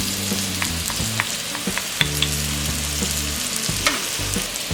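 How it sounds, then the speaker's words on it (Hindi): Sliced pointed gourd fries in a pan over a medium-high flame, giving a loud, steady sizzle broken by occasional scrapes and stirs of a spatula. "मीडियम टू हाई फ्लेम पे हम फ्राई कर रहे हैं अभी।"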